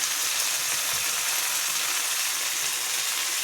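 Food frying in a pan in a home kitchen, a steady, even sizzle with fine crackle running throughout at moderate level, with no voices over it.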